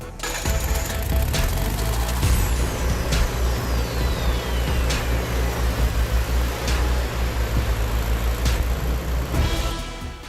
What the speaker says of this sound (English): It started welding just fine.